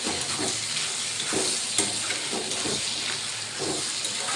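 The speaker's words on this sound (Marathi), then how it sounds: "आणि छान असं फिरवून घेत आहे." Paneer bhurji sizzles steadily in a pan as it is stirred, a continuous close frying hiss with soft scraping and no talk.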